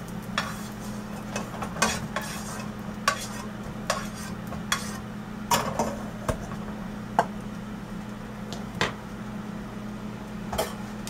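Cumin seeds roast in a little oil in a pan for egg and potato curry, giving a soft steady crackle and sizzle broken by scattered sharp clinks of a spoon stirring against the pan.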